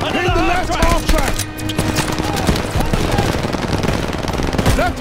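Sustained machine gun suppressive fire in Call of Duty: Vanguard, loud and near, with rapid bursts, battlefield gunfire and game voices and music shouting underneath.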